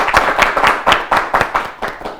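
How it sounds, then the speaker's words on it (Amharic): A small group claps for students in a classroom quiz setting, giving about ten distinct, fairly close claps in an uneven rhythm. "አጨብጭቡላችሁ።"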